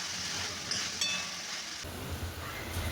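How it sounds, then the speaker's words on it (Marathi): Capsicum sautéed with turmeric, red chilli and salt for a dry besan vegetable dish sizzles softly in a pan, with faint crackling and a light clink of stirring, no voices. "आता सर्व मसाले आणि शिमला मिरची छान एकजीव होईपर्यंत परतून घेऊया."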